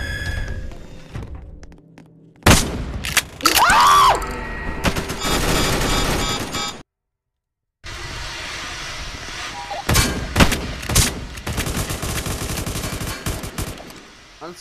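Bursts of loud, crackling laser cannon blasts fire in rapid clusters in the Roblox game SCP facility lockdown, with a brief silent gap midway, a harsh electronic barrage of repeated shots.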